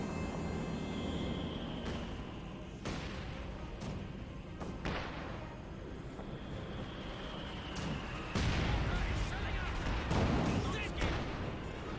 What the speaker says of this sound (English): Panzerwerfer barrage running somewhere over here